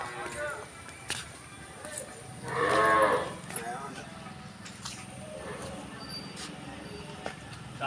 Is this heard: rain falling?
no